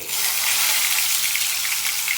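Whole cumin seeds crackle and sizzle steadily in hot oil for a Punjabi paneer tufani curry. The frying is close, loud and even throughout.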